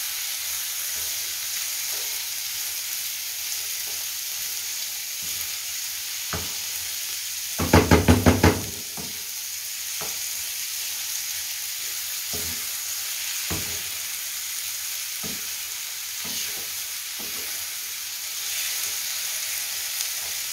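Tomatoes and peppers frying in a pan give a steady close sizzle, with a short burst of louder stirring scrapes around the middle and a few faint utensil taps after it.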